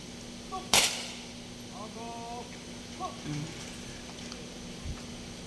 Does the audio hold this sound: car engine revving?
no